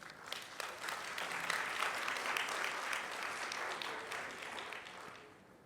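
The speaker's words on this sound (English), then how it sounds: "Please welcome them with a big round of applause" An audience at a Thailand startup event applauds as speakers from the Stock Exchange of Thailand take the stage, with dense, sustained clapping that swells and then tapers off toward the end.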